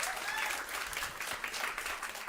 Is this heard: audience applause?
yes